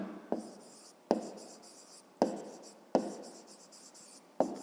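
Pen strokes writing out a fifth-grade math exercise: five sharp scratchy strokes, each starting crisply and trailing off, spaced unevenly and close by, with no talking.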